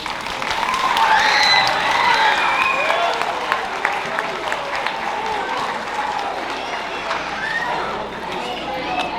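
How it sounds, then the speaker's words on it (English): A school assembly audience claps steadily, with loud applause and some cheering and whooping that fade slightly but continue throughout. "give a big round of applause"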